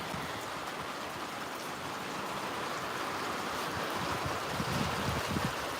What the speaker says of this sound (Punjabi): ਮੀਂਹ ਪੈਣਾ ਸਟਾਰਟ ਹੋ ਚੁੱਕਿਆ ਖੰਨੇ